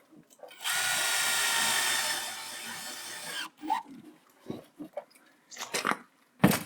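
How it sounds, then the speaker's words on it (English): A power drill driving screws whirs steadily for about three seconds, close and loud, followed by scattered knocks and handling noises, during a Ram Promaster camper van build. "Try to line your screws up, try to space them evenly, try to drill them nicely."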